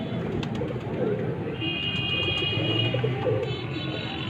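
Sialkoti pigeons coo softly on a rooftop loft, low rolling calls close by over a constant background hum, with faint talk in the background.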